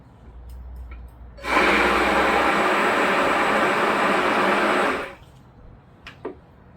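An immersion blender mixing a batch until trace, running in one steady loud whirring burst of about three and a half seconds, close up, with quiet rustling before and after.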